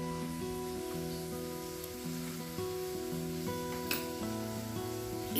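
Ginger garlic paste sizzles in a pan as it is stirred, a soft continuous frying hiss under steady background music.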